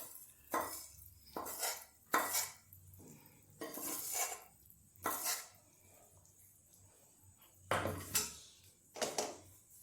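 Mysore pak mixture made with oil and ghee is scooped from a pan onto a plate: a handful of separate metallic clanks and scrapes of utensils, fairly close, with quiet gaps between.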